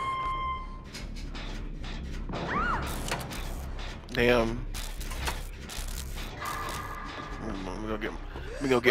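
Clanking, ratcheting mechanical noises from a generator being repaired in the Dead by Daylight video game, set in Haddonfield. The irregular metallic bursts play under a player who talks throughout.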